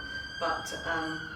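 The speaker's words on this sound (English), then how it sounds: "excuse that, that's the ambulance" A distant ambulance siren wails faintly outside, rising in two short swells beneath a quiet room tone as a voice begins to speak.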